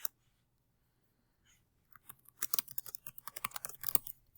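Quick, uneven keystrokes on a computer keyboard start after a quiet pause and patter close by for a couple of seconds, with no talking over them.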